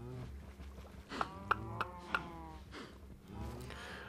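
Cows in Minecraft, several low, drawn-out moos layered over one another, fairly quiet, with a few faint ticking clicks in the middle.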